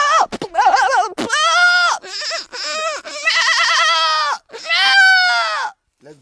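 A boy imitates a goat, his voice producing a string of wavering, nasal bleats in several bursts, loud and close, with brief pauses between calls.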